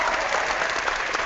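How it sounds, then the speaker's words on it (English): Canned applause sound effect played during a live-streamed sports talk show, a steady wash of clapping at even level throughout with no voices over it. "I'm not worthy of that applause."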